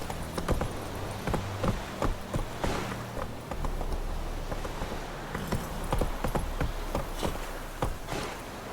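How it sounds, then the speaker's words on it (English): Horse hooves in the Witcher 3 video game, a quick irregular clip-clop of galloping steps near and fairly loud over a low ambient background, with no speech. "Run, Roach"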